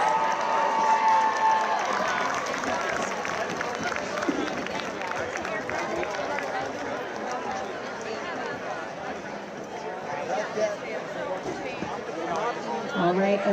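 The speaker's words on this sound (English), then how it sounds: "Let's have a big round of applause for our Conestoga Marching Band seniors." A stadium crowd applauds and cheers the Conestoga marching band seniors at a varsity football game, a broad wash of clapping and chatter under a public-address voice.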